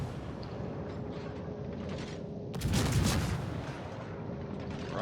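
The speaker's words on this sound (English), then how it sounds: "Queen Elizabeth and Bismarck firing on him" Naval guns of the Queen Elizabeth and Bismarck battleships fire in World of Warships, a single heavy boom bursting midway through over a low, steady background rumble, loud and close.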